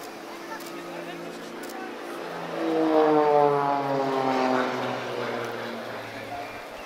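An Extra 330LT propeller aerobatic plane flies a low display, its droning engine swelling louder as it passes close by with a falling pitch, over steady background noise.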